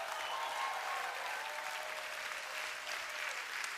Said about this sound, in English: You better clap your hands and shout,